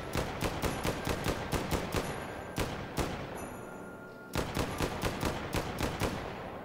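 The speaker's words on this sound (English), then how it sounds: "I just want to show you these cannons" Cannons in H3VR firing in rapid bursts of sharp, booming blasts, a steady run of repeated shots broken by a short pause before another volley, loud and close.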